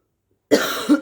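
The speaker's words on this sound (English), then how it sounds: "Sorry for my cough." One close, throaty cough in two quick bursts after a moment of silence.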